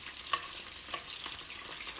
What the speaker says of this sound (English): once you're done frying all your chicken, you wanna place it onto a wire rack or a napkin